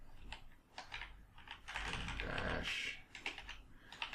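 Quiet, steady clatter of computer keyboard keys being typed in bursts while entering shell commands, close by, with a brief spoken word.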